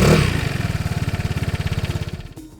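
A Vespa GTS scooter engine revs up close with a fast, pulsing throb that holds steady and then fades as the throttle eases off, with no voices over it.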